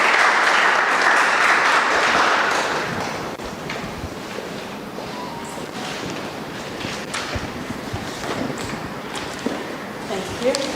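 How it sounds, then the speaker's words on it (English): An audience at a live evening event gives a round of applause welcoming Margaret Asante Danso, loud, dense clapping at first that fades to scattered claps as voices begin talking. "With a resounding round of applause, let's welcome Margaret Asante Danso to join me up here."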